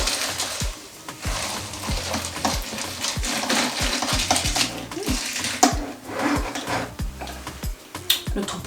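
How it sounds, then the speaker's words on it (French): A spoon stirs a non-alcoholic cocktail in a glass, giving repeated quick clinks and taps in an uneven rhythm over several seconds, close and clear. "On mélange un petit peu."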